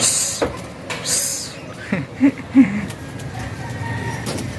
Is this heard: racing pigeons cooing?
yes